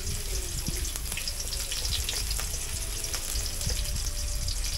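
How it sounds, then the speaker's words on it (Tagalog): Garlic and onion sautéing in a pan for chicken pochero, a loud, steady sizzle and crackle of frying close by, with a few scattered stirring clinks and no talk. "At ngayon naman, igigisa ko na ang bawang. Tapos isusunod ko na tong sibuyas."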